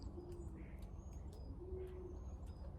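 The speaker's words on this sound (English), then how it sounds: "I have a set of doves that are living in the barn above us. And they're cooing." Doves nesting in a barn loft coo softly in the distance, low repeated calls drifting over a steady low background hum, with faint chirps scattered throughout.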